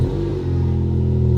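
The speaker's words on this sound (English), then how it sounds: "this is gonna be our first cold start with the new exhaust right here" A VW MK7 GTI with a new custom exhaust cold-starts, giving a loud, close, steady low exhaust drone and rumble that holds evenly for about a second with no talk.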